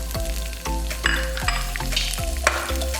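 Cashew nuts and raisins fry in a spoonful of ghee for Kerala-style rice payasam, a continuous close sizzle with the scrape of a spoon stirring the pan every half second or so.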